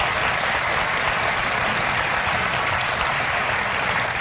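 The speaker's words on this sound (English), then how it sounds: "Wasn't that resounding an applause for her?" Loud, continuous studio audience applause on a late-night talk show, a thick, even roar of many hands clapping that holds steady throughout, close and full.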